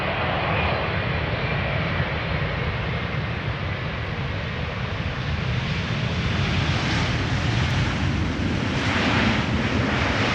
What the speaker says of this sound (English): Etihad triple coming in and a 747 coming in.